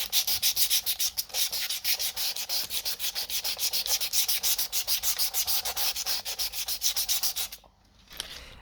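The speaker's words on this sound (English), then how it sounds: "time to start sanding" Hand sanding a model Sherman tank before painting: steady rhythmic scratchy strokes, close and continuous for several seconds, ending abruptly.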